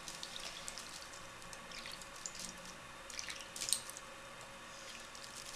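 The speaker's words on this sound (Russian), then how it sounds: "брызгаю мыльной водой" Soapy water sprayed in light, scattered hisses from a hand sprayer onto a wet surface during a craft job, quiet and close with soft drips, no voices.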